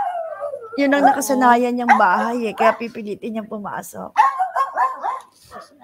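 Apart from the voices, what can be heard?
dog howling and barking, trying to get into house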